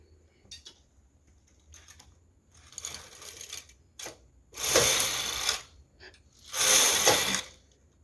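A knitting machine carriage is pushed across the needle bed for two rows of a lace pattern, giving two loud, sustained rasping sweeps of about a second each, with lighter mechanical clicks and shuffles before them.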